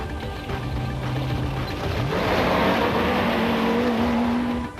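A fast turbocharged Toyota Hilux rally car at the 1990 Roof of Africa off-road event, its engine droning and climbing in pitch as it accelerates and passes nearby, loud and continuous over rough road noise.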